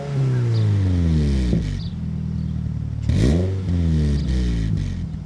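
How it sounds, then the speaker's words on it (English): Loud engine drone heard from inside a 2024 Toyota GR86 Trueno Edition, revving up and down in rising sweeps with a steady rumbling hum throughout. "The engine's a little noisy."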